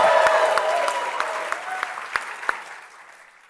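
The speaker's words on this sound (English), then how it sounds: "let's hear you make some noise so everybody can hear that you're here" A live audience at the Google I/O 2025 conference claps and cheers loudly, the dense applause thinning out to a few scattered claps as it fades.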